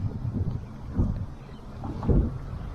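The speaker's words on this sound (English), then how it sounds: "I gotta keep paddling." Kayak paddle strokes on the Connecticut River in Vermont, soft dull splashes and water swishes recurring about once a second under light wind noise.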